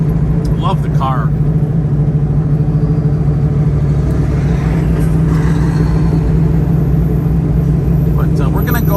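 A 1970 Dodge Challenger on a test drive, heard from inside as a steady, loud low engine rumble and road drone that holds throughout, with brief faint voice-like sounds over it.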